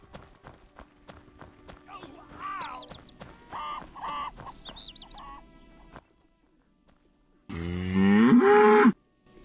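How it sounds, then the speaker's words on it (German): A prize-winning cow moos loudly in The Witcher, a long bellowing call standing alone near the end, after a stretch of in-game character speech with clopping footsteps in the background. "Eine preisgekrönte Kuh."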